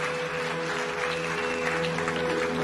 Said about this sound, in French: Démosle un fuerte aplauso al Señor.